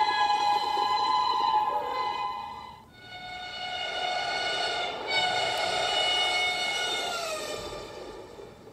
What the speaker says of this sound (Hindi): शताब्दी एक्सप्रेस 130 किलोमीटर पर आ रहा है यार